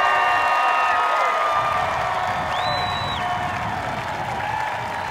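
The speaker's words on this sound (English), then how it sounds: "Please, I need three round of applause for the three captains" An audience at a celebration applauds and cheers for three team captains, a loud continuous crowd roar of clapping with whoops and a few shouted voices on top.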